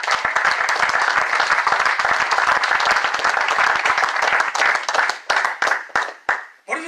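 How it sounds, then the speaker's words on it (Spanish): A church congregation claps steadily for several seconds, the applause thinning into scattered individual claps before fading out. "Denle un aplauso al Señor"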